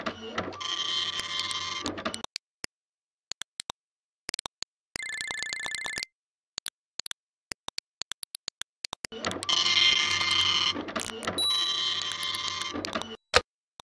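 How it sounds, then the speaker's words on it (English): A cyber printer in the Space Quest 6 computer game runs in two loud mechanical printing bursts separated by scattered clicks and a short electronic tone, with the pattern repeating twice. "The cyber printer accepts your cyber file gratefully and begins to print."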